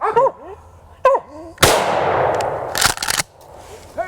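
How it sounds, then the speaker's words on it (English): During a squirrel hunt, a single loud, close gunshot cracks out and rings with a long decaying tail after a dog's short barks and yelps. Clattering follows just after the shot. "Go ahead and shoot."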